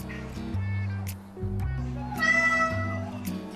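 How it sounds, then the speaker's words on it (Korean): Milky the cat meows repeatedly at a bathroom sink, drawn-out plaintive cries with a voice talking over them indoors. "또 세면대 안에 앉아 물을 틀어달라고 우는 밀키"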